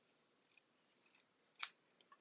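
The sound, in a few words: scissors cutting paper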